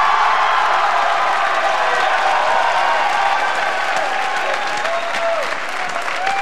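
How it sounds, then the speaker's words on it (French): Loud, sustained applause from a TV studio audience, thick continuous clapping mixed with crowd noise and some high cheering or screams rising over it. "j'ai entendu des cris de filles mêlés aux applaudissements des gars"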